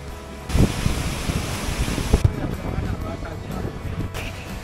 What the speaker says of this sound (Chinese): 看，我们正在瀑布的旁边耶，瀑布的水雾扑面而来